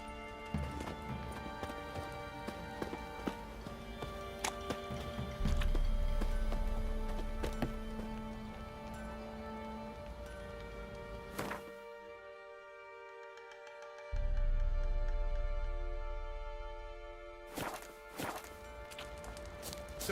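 Horse hooves clip-clopping in The Witcher 3, a steady rhythmic gait over game music and ambience, fairly close, with a brief lull in the middle before the hoofbeats resume.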